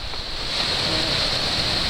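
Atlantic Ocean surf washes against the shore at Fort Williams, Maine, a broad continuous hiss of waves and moving tide that swells slightly, steady and fairly close, with some wind across the microphone.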